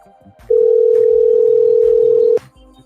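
A loud, continuous electronic phone tone holds steady for nearly two seconds, rising abruptly and cutting off cleanly, with faint background sounds around it.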